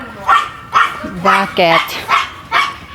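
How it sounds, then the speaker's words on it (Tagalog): A dog barks repeatedly at visitors, about six sharp, fairly close barks in a steady rhythm, with a brief spoken word in between. "Ayaw niya yung bisita nila dun. Tinatahulan ng aso."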